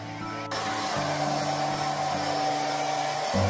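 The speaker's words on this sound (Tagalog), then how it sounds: "At i-vacuum na natin" A vacuum cleaner switches on and runs with a steady, loud whine while cleaning a bedroom floor, its pitch shifting slightly as it moves.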